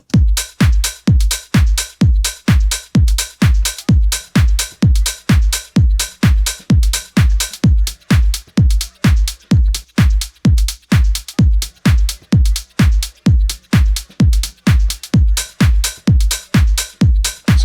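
Deep tech beat of a punchy kick and clap looping at a steady four-on-the-floor pace, the kick ducked by LFO Tool sidechain so each hit pumps, loud and up front with no voices.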